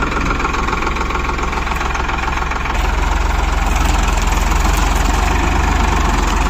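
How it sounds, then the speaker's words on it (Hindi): A tractor fitted with a lift control is started and left running; a continuous rough engine drone steps up in loudness partway through, then holds steady and close. "अब अपन ट्रैक्टर को चालू करते हैं"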